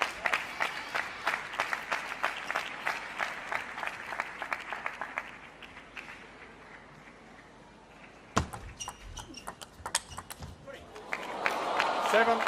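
An arena crowd at an ITTF Mixed Team World Cup table tennis match between China and Australia claps in a sustained burst that fades out. A broadcast commentator talks over it, and scattered ball and paddle knocks follow before a fresh swell of noise.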